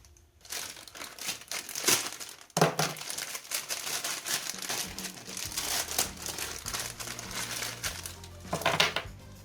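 A small shipping package holding a cheap ring is crinkled and torn open up close, with irregular bursts of loud plastic rustling and crackling and brief pauses, no talking.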